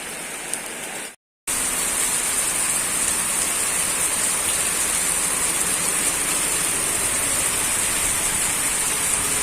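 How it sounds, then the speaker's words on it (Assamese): Heavy rain pours steadily in a small town street where a new scooter stands soaking, a dense continuous hiss after a brief gap, with no talking. "ধাৰাসাৰ বৰষুণ আহি গ'ল ভাই"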